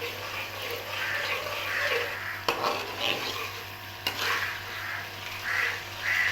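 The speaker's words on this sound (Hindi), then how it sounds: "अब तमाम मसाले की अच्छे तरीके से भुनाई जो है वो कंप्लीट कर लेंगे" Masala spices with turmeric and salt are roasted and stirred in a pan for a village-style fish curry, giving a continuous soft sizzle with scraping stir strokes and a couple of sharper clinks, close and steady.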